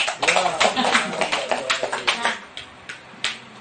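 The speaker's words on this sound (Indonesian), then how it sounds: "Tepuk tangan untuk Bu Eli" Classroom applause for a teacher, a burst of quick, close handclaps that thins out into a few scattered claps, with voices mixed in.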